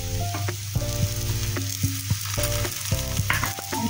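Cabbage paratha frying in oil on a pan, a steady close sizzle over a constant low hum, with a series of sharp metallic clicks and clatters recurring irregularly.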